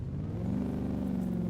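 A car engine in the game DayZ on a modded server runs loud and throaty, revving up with a rising rumbling whir over a couple of seconds, close and unaccompanied by talk.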